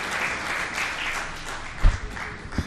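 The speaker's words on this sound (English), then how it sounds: "Big round of applause for Mr. Sriram Krishnan, please." A crowd applauds a speaker coming onto the dais at a financial-markets event, a steady wash of clapping throughout with a couple of louder thumps near the end.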